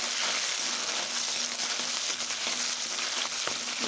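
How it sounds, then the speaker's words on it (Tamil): Small shallots fry in a pan with a bright, steady sizzle that stays loud and continuous through the short stretch, with faint stirring and no speech. "சின்ன வெங்காயம் போட்டு நல்லா வதக்கணும்"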